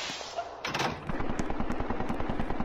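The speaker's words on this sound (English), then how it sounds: "I'm hearing distant gunshots." Rapid bursts of distant gunfire crackle in a steady, repeated rhythm, fairly faint and muffled, with a brief louder thump early on, in the game SCP Containment Breach.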